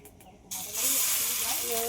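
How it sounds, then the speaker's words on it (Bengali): Fish roe shaped like fritters goes into hot oil. After a brief quiet moment comes a sudden loud hiss that settles into a strong, steady sizzle close by. "এবার এই মাছের ডিমগুলো একটু বড়ার মতো করে ভেজে নেব"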